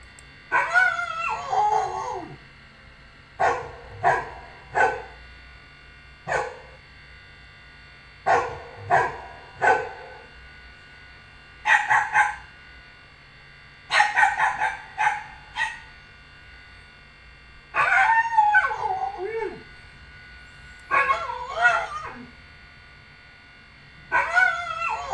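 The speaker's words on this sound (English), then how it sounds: "A. Dog." A dog barks alone in repeated short bursts, some single and some in quick pairs or triples, with yips and whimpering, whining tails between them, fairly close and clear.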